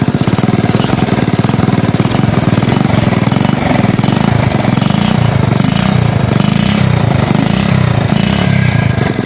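A Honda C70 motorcycle engine runs steadily after a one-click start, a loud, close, continuous rattling putter with no talk over it.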